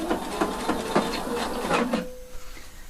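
A sewing machine stitches a lined slit on a garment, running in quick rhythmic bursts with clicking needle strokes for about two seconds before stopping, leaving a faint hum.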